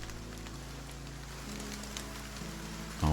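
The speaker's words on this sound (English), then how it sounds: "The endless patter of rain on the street creates a wordless song." Rain patters on a street in a cutesy video game, a soft, continuous hiss of drops under a steady, gentle musical drone, with a louder swell at the very end.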